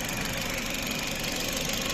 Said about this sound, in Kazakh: Мотор жагы жакшы, ровно от алып турат.